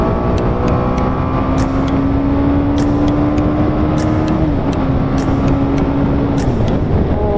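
Motorcycle engine accelerating on a road, a loud continuous drone with rising then dropping tone as gears shift, close to the rider.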